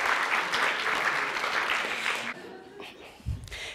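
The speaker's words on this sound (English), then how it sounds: "Let's have a nice round of applause for all of the speakers" Applause at a launch celebration event fills the room with dense, steady clapping from a sizable audience, then fades and breaks off into scattered claps and a few voices near the end.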